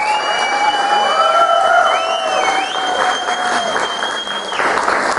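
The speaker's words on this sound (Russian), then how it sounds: "Прошу вас, бурные аплодисменты ребятам" Loud applause from a concert crowd, thick continuous clapping with cheering and whistle-like whoops rising and falling over it.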